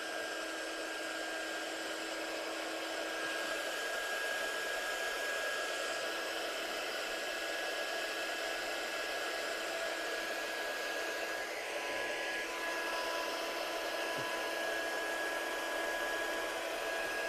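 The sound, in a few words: heat gun embossing powder on card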